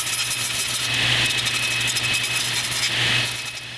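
Table saw slowly cutting tenons into wooden pieces as the stock is turned, a loud, continuous motor whine with the blade's pitch swelling at times, without any talk.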